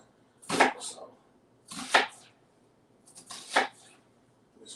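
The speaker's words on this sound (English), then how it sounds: "just cut up some quick little onions" A knife cuts through onions in short bursts, three or four crisp slicing strokes separated by pauses, close and fairly quiet against a silent background.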